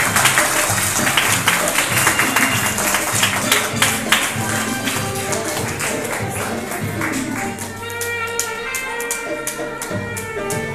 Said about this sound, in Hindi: तालियों की गड़गड़ाहट जो है वो तेज होनी